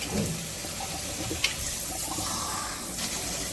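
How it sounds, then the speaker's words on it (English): Tap water running steadily into a colander of okra at the sink, an even, moderately loud splashing wash with a few faint clinks, and no talk. "we're gonna wash them good in the colander"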